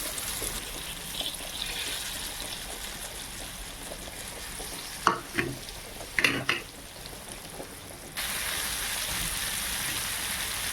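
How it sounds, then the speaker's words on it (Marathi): Fish frying on a hot tava over medium heat: steady hot-oil sizzling fills the background, broken by a few clanks of a utensil on the pan, then the frying grows louder and fuller. "आपला तवा तेल गरम झालेला आहे तर आपण आता मच्छी तव्यावरती सोडूया"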